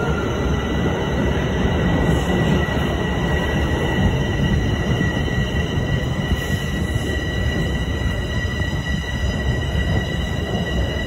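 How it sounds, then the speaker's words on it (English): A northbound subway train rumbles loudly and steadily through Toronto's TTC St. Clair station, wheels grinding with a faint high metallic whine over the constant roar. "This one is train heading northbound."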